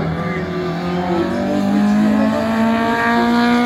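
A Peugeot 106 XSI race car at an auto slalom, its engine droning loudly and close as it revs and climbs in pitch over a few seconds.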